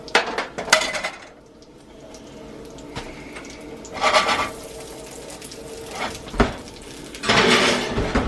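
Metal sheet pans clatter and bang as they are pulled out of an oven in a home kitchen, giving several loud sharp clanks and scrapes separated by quieter stretches of handling noise.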